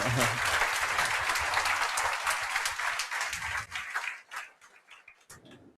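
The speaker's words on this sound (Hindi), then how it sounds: "एक बार जोरदार तालियों से वापस स्वागत कीजिए सर का।" A crowd claps loudly and steadily for several seconds, the applause thinning out and fading toward the end.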